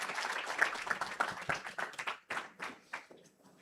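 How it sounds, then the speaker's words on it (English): Audience applause at a university family-orientation event, a dense burst of clapping that thins into scattered, separate claps near the end. "keep the applause going"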